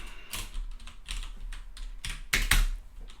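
A chmod command typed on a computer keyboard while working in Linux: a close, steady run of quick key clicks with a few louder taps near the end, no talking over it.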